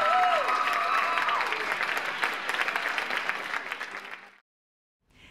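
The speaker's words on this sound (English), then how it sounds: "So give them another round of applause." Studio audience applause for performers on a public television music program, a dense steady wash of clapping that tapers off and cuts to silence near the end, with faint voices mixed in.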